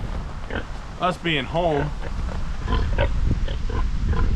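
Pigs in a farm barn let out a few high, wavering squeals and oinks close by, while a person talks over them the whole time.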